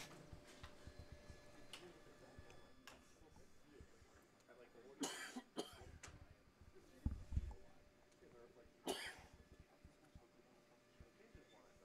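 A few short coughs and throat-clearing sounds break through quiet background talk, with two sharper bursts near the middle.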